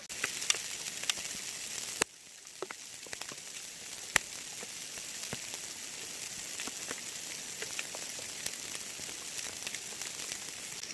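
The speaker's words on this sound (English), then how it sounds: "Here's a nice, beautiful, scenic roll of hail falling on the concrete." Hail falls on concrete outdoors, a dense, faint crackling patter with scattered sharper ticks and a few louder cracks, continuous and with no voices.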